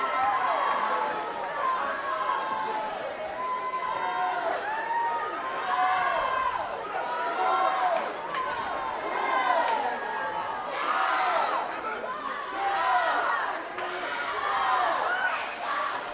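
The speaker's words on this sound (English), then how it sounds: "the crowd still cheering them on" Crowd cheering and shouting at a Liberty vs. Memorial high school swimming meet, a dense, steady roar of many voices that swells and dips for the whole stretch, with loud peaks of yelling.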